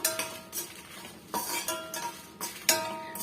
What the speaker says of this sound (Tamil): மிளகாயில் இருக்கக்கூடிய அந்த ஈரப்பதமும் நல்லா வந்து நமக்கு போயிடணுங்க அந்த அளவுக்கு நம்ம வறுத்து விட்டுக்கலாம்